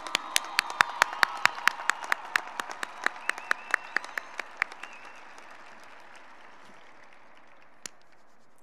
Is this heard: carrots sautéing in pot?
no